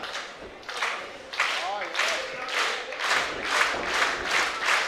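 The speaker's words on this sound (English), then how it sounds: "Crowd is pumped, ready to go." Crowd at a live pro wrestling tag-team title match in Melbourne roars and claps in rising rhythmic waves as the bell starts the bout, loud and sustained with voices mixed in.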